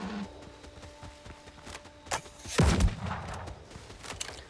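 A pistol fires into the sky in the video game Windrose: one sharp, loud shot cracks out and echoes briefly, preceded by a fainter click and quiet ambient noise.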